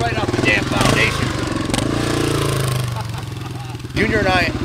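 A 1980 Honda XR500 single-cylinder four-stroke dirt bike putters along at a crawl, its steady low throb loud and close, with a voice talking over it.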